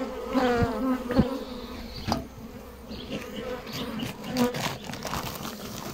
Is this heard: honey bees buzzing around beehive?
yes